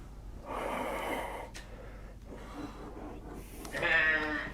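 A goat with an odd, mixed-sounding voice bleats and snorts in breathy, rasping calls, close to the microphone, ending in a louder tonal bleat.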